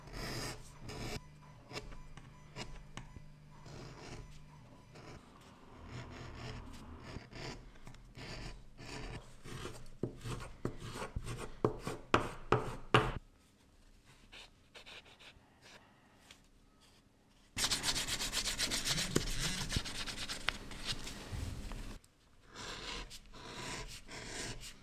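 Leather journal cover pieces having their edges beveled, heard as close, scraping and rasping strokes that come in irregular bursts with brief quieter gaps, fairly faint overall.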